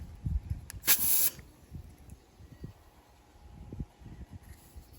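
Insect spray is fired at a carpenter bee outdoors in one short, sharp hissing burst, with quiet rustling and soft knocks around it.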